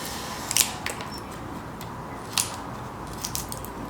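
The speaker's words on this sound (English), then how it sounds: "I'm just going to quickly cut some eyebrows and put them in" Scissors snip paper to cut out eyebrows for a simple mask, a few quiet crisp clicks spaced unevenly, close and alone with no talking.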